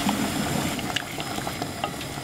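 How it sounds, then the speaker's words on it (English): Hot stock goes into risotto rice with butternut squash in a pan, a close, continuous bubbling simmer with soft liquid splashes and light stirring, no voices. "I'm going to keep adding stock to my pan with the rice in, a ladle at a time really"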